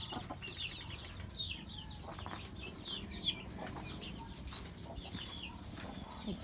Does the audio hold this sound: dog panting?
no